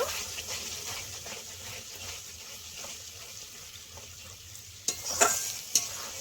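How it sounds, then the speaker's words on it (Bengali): Cashew paste being stirred in a frying pan while cooking Kashmiri rohu, with a low continuous sizzle and soft scraping, then a few louder clinks and scrapes near the end, close and without speech. "এখানে দিয়ে দেবো কাজু বাদাম বাটা, একটু নেড়ে ফেড়ে নেব।"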